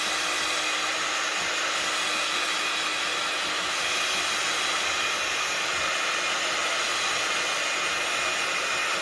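A hair dryer blows steadily and loudly for the whole stretch, a constant broadband whoosh with no pauses, used to dry glue on scrap paper for a recycled junk journal.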